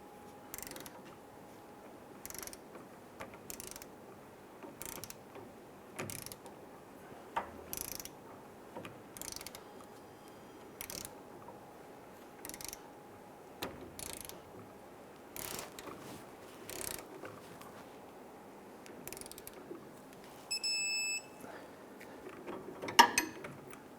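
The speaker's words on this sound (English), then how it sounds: "We're going to use our wrench here, and we're going to go ahead and torque this down to 128 foot-pounds." A ratchet wrench torquing the strut mount bolts on a 2005–2010 Chrysler 300: faint, evenly spaced clicks repeat about once a second in a quiet garage, with a brief metallic jingle near the end.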